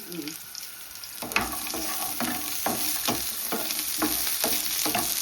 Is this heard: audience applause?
no